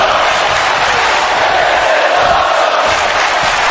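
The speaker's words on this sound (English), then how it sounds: "The crowd chanting this is awesome because they love what they are seeing." A large arena crowd in the wrestling video game WWE 2K25 chants "this is awesome", a steady, loud roar of voices filling the whole stretch without pause.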